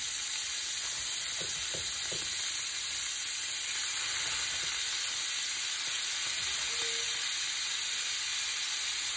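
Shrimp cooking in hot oil in a pan on high heat, a steady close hiss and sizzle throughout with a few faint clicks of utensils, no voices.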